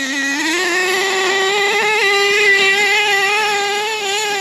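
An HPI Savage nitro RC monster truck engine runs at a high, steady whine, loud and close, holding a sustained buzzing pitch that rises slightly early on before leveling off.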